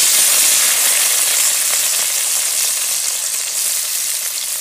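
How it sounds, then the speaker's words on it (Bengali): Tomato pieces hitting hot oil in a pan for a homemade tomato chutney, a loud, steady, hissing sizzle that holds strong throughout, close up with no voices. "এখন ছেড়ে দেব টমেটোটা।"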